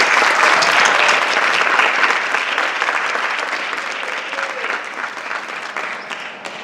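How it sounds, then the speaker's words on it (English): A school auditorium crowd applauds new National Honor Society inductees at Central High School, sustained dense clapping from many hands that stays strong and then gradually thins and softens. "Can we get another round of applause for our new inductees?"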